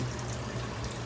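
Water sloshing and trickling inside a big aquarium siphon hose in a fish room, a soft, close, continuous burble with no voices.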